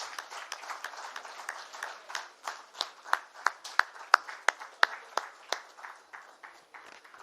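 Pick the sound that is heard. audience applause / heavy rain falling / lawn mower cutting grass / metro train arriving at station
audience applause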